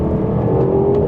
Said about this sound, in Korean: 배기관에 한바탕 난리가 납니다